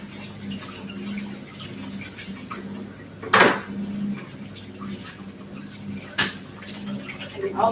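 Dishes, pots, pans and cutlery being washed at a kitchen sink during cookie baking, with a copper bowl among them: steady running water and background hum, broken by a couple of sharp clanks and rattles.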